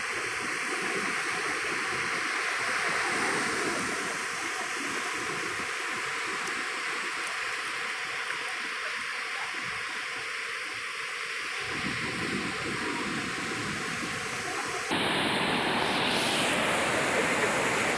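Sea waves wash onto a beach in Vizag in a steady, loud, continuous roar of surf that fills the whole stretch with no pauses.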